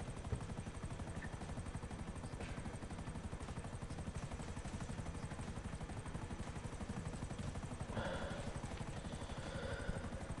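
A helicopter in a video game flies with a steady, continuous rotor drone and engine rumble that stays loud and even throughout, with brief clattering touches here and there.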